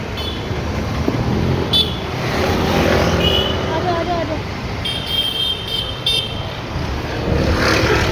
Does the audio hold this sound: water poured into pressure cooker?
no